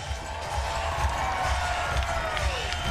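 Beach volleyball crowd at Huntington Beach cheering before the 2018 FIVB World Tour men's gold medal match, a dense, steady roar of many voices and clapping that swells slightly and holds throughout.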